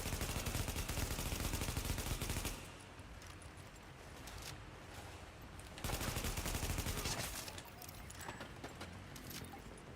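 Rapid gunfire from a first-person video game gun, loud sustained bursts of automatic fire separated by quieter stretches with background noise.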